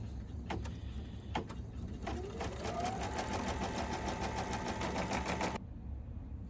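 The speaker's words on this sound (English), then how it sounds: "So we're going to stitch out our placement step real quick." An embroidery machine stitches placement stitches onto stabilizer, a steady rapid mechanical chatter that runs close and continuous for several seconds after a few clicks, then stops abruptly.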